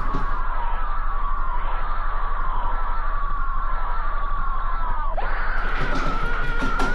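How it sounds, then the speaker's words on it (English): A sustained, distorted, blood-curdling scream from a creepy Mickey Mouse cartoon episode wails at a steady pitch for several seconds, then bends sharply before continuing, loud and alone. "you could hear blood-curdling screams"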